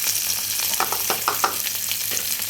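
Potato pieces sizzle in hot oil with a bay leaf, a dense, steady hiss broken by scraping, clinking strokes of a spoon stirring in the pan close up.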